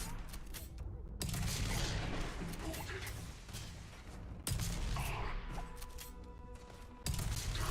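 In Starfield, shotgun blasts boom out as three heavy, abrupt bursts of gunfire spaced a few seconds apart, each followed by rough combat noise at moderate volume.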